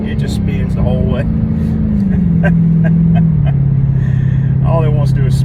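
A Dodge Hellcat with no catalytic converters and an active exhaust mod drones loudly with a deep, steady engine note that slowly drops in pitch while its tires spin. Someone talks over it.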